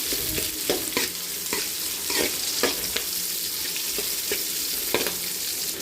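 Onion, garlic, curry leaves and mustard seeds sautéing in oil for sambar, a steady close sizzle broken by repeated scraping stirs of a spoon against the pan, with no talking.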